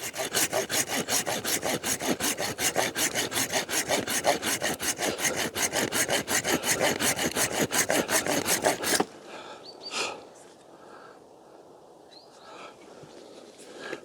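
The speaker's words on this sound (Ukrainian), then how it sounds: "Пиляти теж треба правильно, щоб кору не розірвало в місці з пилу." A handsaw cuts through a damaged apricot tree branch in an orchard, with fast, even back-and-forth strokes loud and close for about nine seconds, then it stops and only faint rustling and a couple of soft knocks remain.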